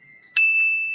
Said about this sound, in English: Let me give you the bell.